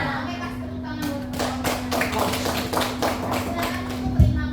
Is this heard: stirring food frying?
no